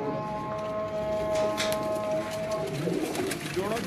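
Pigeons coo close by in soft, repeated throaty calls, with a voice faintly talking in the background.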